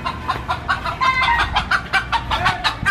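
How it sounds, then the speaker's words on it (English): Several chickens cluck close by in quick, uneven bursts on a street in Puerto Rico, with a faint low outdoor rumble underneath. "Here we have chickens just chilling in the street."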